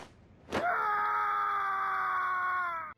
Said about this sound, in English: hearing Edge scream in rage in the DS remake felt so natural